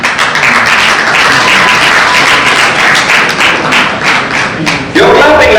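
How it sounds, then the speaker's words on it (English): Loud, dense clapping from an audience at the Northern Uganda Film Awards ceremony, sustained and close, with a sharp burst of renewed applause near the end. "You're clapping like it is your NC1. You clap!"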